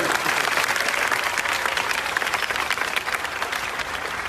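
A crowd bursts into applause at a Punjabi public gathering, a dense and continuous wash of clapping that stays loud and close for about four seconds before thinning slightly, with no clear talk over it.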